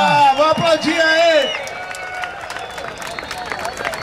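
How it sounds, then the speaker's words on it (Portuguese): A crowd at the final of a skateboard competition in Fortaleza claps and cheers, steady applause and babble continuing under a loud announcer's voice that dominates the opening seconds. "Vamos aplaudir aí!"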